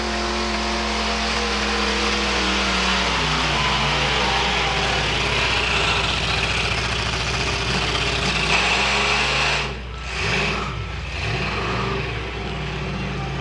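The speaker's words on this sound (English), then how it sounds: "Engine breaking down a bit for Bill." A tractor-pull engine at a truck and tractor pull roars steadily and loudly, then briefly sputters and dips as it bogs down, with an announcer talking over it.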